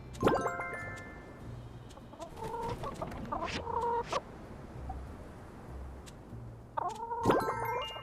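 Chickens in the video game My Time at Sandrock give a few bursts of close clucking and squawking calls, separated by quiet pauses, with no talk.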